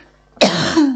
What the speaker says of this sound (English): Hold on, I need to pause this and cough my guts up.